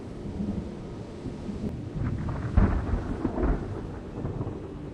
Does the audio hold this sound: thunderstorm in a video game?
yes